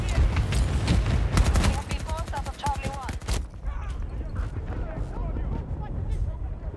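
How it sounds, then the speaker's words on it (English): Grenade explosions in a Battlefield match, a dense run of sharp blasts and gunfire with chatter on top, thinning out into sparser pops. "Grenades are blowing up around him."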